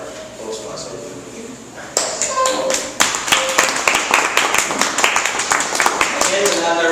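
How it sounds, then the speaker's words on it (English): Clapping from a small Toastmasters club audience at a Metro Manila meeting starts sharply about two seconds in and carries on as dense, close, steady applause after a brief stretch of talk at the start. "Let's give ourselves a big round"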